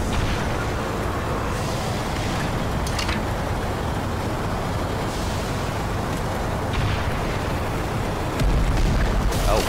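Dense rumbling blasts and debris fill a firefight in the video game Black Mesa, loud and continuous, with repeated sharp cracks and booms layered over a constant roar of game noise.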